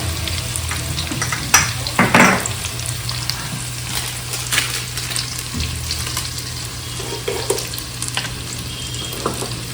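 Spices frying in oil for prawn biryani, cooked outdoors in a garden, with a steady close sizzle and a few louder scraping stirs of a spoon in the pan, no voices.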